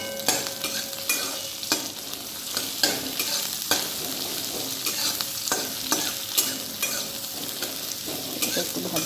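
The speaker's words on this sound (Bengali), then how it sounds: "পেঁয়াজটা দিয়ে বেশি ভাজবো না" Onion and ginger fry in a pan with a steady sizzle, broken by repeated scraping and clinking strokes of stirring, close and moderately loud, with no talk.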